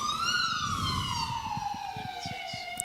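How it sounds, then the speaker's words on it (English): Close to a busy hospital, an ambulance siren passes with one long wail that rises and then slowly falls away, heard steadily over faint outdoor rumble. "Another ambulance."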